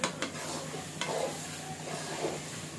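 Curry leaves hit hot oil in a mutton liver curry, producing a close, steady sizzle with a couple of brief crackling bursts and no voices.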